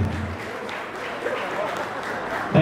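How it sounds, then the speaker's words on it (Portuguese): Brief crowd applause at a São Paulo state government event, a moderate continuous patter mixed with voices and a low rumble, swelling slightly at the end. "Pode aplaudir mais."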